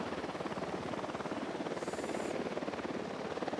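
Helicopter rotor in Ghost Recon Wildlands, a steady rapid thudding chop that stays loud and close throughout, with a brief high whine partway through and no talk over it.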